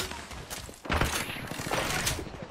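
A dense, rapid volley of video game gunfire rattles throughout, swelling into a heavier burst about a third of the way in, with no speech.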